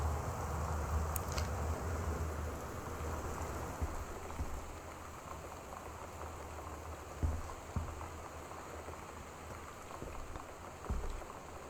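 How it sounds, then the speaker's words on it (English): Rain falls steadily in the game Gone Home, a soft, continuous hiss of drops with a few faint knocks scattered through it. "you can hear the rain probably throughout most of the game or all the game"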